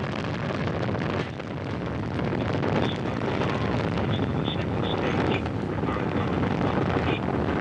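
A Soyuz rocket's four boosters and single engine roar through first-stage flight as a continuous, dense, distant rumble with wind-buffeted crackle, steady and loud throughout.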